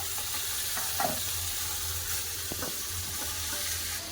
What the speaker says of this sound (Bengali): এই মাছগুলো খুব ভালো করে লাল করে ভেজে